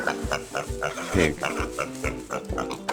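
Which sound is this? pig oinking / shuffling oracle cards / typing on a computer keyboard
pig oinking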